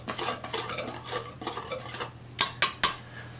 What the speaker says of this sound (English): You're just going to take a whisk and just kind of mix all these ingredients up really well.